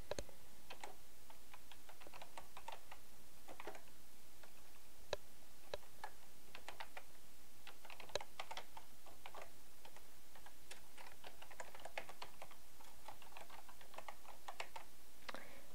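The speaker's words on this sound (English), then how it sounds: "we're going to type Express Buy" Steady, fairly quiet computer keyboard typing, keys clicking in irregular bursts while entering text in an Excel worksheet, close and with no one speaking.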